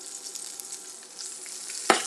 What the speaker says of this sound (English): You can see it's just kind of sizzling.